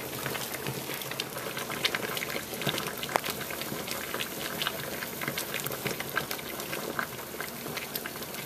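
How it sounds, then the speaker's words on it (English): A pot of food boils steadily in water on a home stove, a constant bubbling hiss with scattered pops and small splashes, moderately close and uninterrupted by speech. "So how long you let those boil for?"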